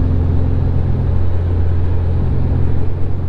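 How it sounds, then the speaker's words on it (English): A loud, constant low rumble of a car rolling over pavement, with droning road and engine noise heard from inside the vehicle. "I forgot we're on pavement, so the car's like super loud now"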